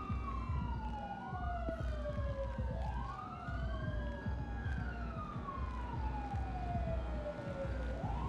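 Police sirens wail in long rising and falling sweeps at a moderate distance, layered over a low rumble of traffic.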